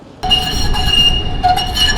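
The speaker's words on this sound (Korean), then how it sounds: "아 저거 진짜 많이 타고 다녔는데 트램" A tram in Izmir, Turkey rolls past close by, a loud rail rumble with high metallic wheel squeals and ringing tones that swell and dip.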